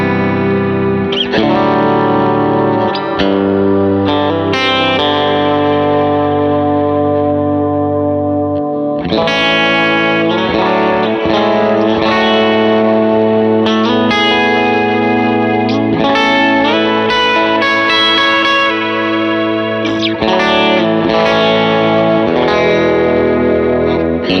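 An electric guitar plays through a BigSky reverb pedal preset, its chords and notes ringing loud and continuous under a wash of lush reverb with some distortion and chorus.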